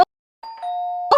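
A Wuling Air EV electric car's horn gives one short, clear electronic beep, loud and alone, between brief moments of silence.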